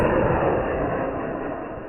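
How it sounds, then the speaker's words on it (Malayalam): New Year fireworks at a Kalvari Mount celebration, heard as a dense, continuous rumbling roar of blasts blending together rather than separate pops, steady and fairly loud. "അങ്ങനെ വെടിക്കെട്ട് തുടങ്ങി"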